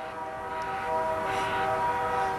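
A train sits stopped near a bridge, its steady mechanical hum and tonal drone holding constant with a slight swell midway, heard from a moderate distance with no talk.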